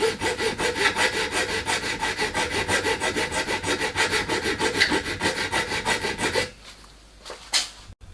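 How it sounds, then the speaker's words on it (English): A hacksaw cuts a metal cam with fast, even back-and-forth strokes, loud and close, then stops and gives way to a few short, quieter filing rasps. "The cam is then cut out by hacksaw and then filed to shape."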